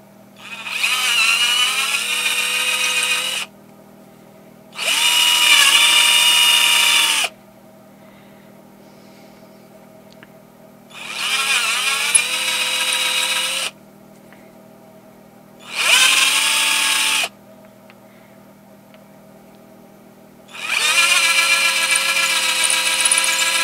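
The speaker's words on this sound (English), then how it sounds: "So I'll take a 13/64 drill and drill these out." A power drill with a 13/64 bit whines in five separate bursts drilling out wooden chain links, each a few seconds long, with quiet pauses between them and a low hum underneath.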